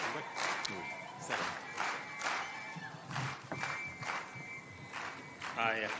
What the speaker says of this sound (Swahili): Tupikie makofi ya kilo moja.